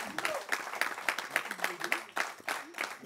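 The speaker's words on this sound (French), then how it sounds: "je pense qu'on peut nous applaudir" Scattered applause from an online campaign-launch audience in Guadeloupe, sparse and uneven claps with voices murmuring underneath, fairly faint and lasting a few seconds.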